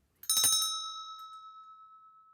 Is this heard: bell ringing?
yes